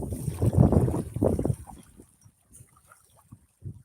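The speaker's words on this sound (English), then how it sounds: "It's just right now it's super windy," Gusts of wind buffet the microphone at a fishing spot near Redmond, Oregon, with low rumbling bursts that swell early on, then ease into fainter scattered puffs.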